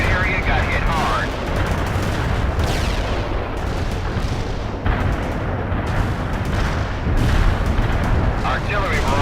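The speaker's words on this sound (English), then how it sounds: "Artillery barrage inbound." Artillery barrage in the video game World in Conflict, US Army mission, a continuous heavy rumble of overlapping booms and blasts, loud and sustained throughout with dense rolling impacts.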